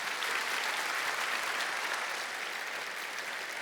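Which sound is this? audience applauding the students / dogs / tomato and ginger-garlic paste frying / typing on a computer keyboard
audience applauding the students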